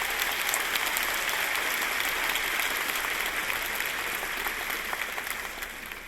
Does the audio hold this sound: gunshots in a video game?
no